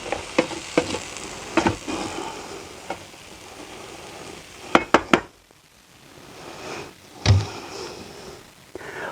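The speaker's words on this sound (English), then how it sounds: "Whilst those onions and peppers are cooking" Onions and peppers softening in a pan inside a wood-fired oven for chilli con carne, with a quiet sizzle under scattered sharp clinks and scrapes of a utensil against the pan, close by and without voices.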